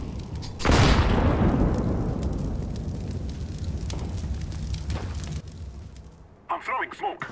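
Grenade-like blasts in CS:GO, a molotov and a flashbang thrown: a loud boom opens into a long decaying roar of fire and rumble, with brief voices near the end.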